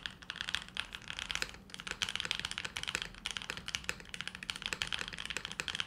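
Steady typing on a mechanical keyboard with pre-lubed switches produces rapid, close, fairly soft clacks in an uneven flowing rhythm, with occasional deeper spacebar thocks and no voices.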